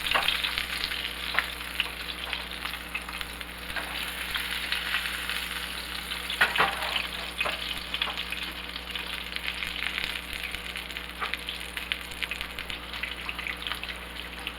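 Salmon fries in a pan with a continuous bright sizzle and crackle, steady and close for the whole stretch, broken by a few louder spits and pops, with no talk.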